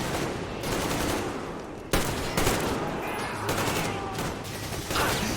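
Gunfire in Metro Exodus: sustained, close, loud bursts of rapid shots forming a near-continuous fusillade, with sharp louder cracks standing out partway through. Some talk sits underneath.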